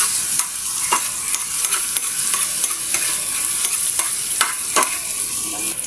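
Garlic and onion fry in oil in a pan for a chicken and vegetable sauté, giving a steady close sizzle broken by sharp clinks of a spatula stirring, with no talking.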